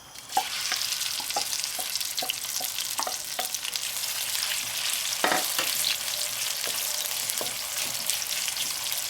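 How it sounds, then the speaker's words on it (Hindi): Onions frying in hot oil in a home kitchen pan, a steady loud sizzle throughout with occasional stirring knocks and clicks, no talking. "तेल ऐड करने के बाद आप इसमें अपने अनियंस को ऐड कर लें।"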